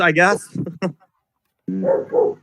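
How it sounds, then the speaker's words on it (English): A dog barks a few times in the background, sharp and fairly loud, mixed in with a person talking. "there's a barking dog somewhere."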